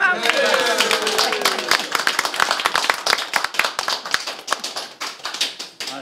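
Neighbours at a decorated-street celebration of a 40th jubilee clap for their host, the close, crisp claps starting dense and then thinning into scattered, sharp hand slaps, with a voice heard briefly at the start.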